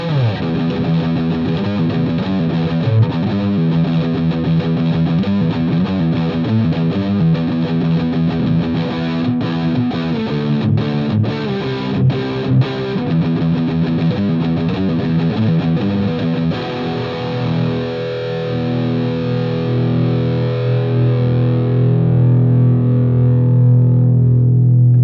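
Overdriven electric guitar through a Fame Studio Reverb 50-watt tube amp with a Digitech Bad Monkey overdrive pedal, played in loud, steady distorted riffs and chords that ring out into a sustained chord at the end, with no talking.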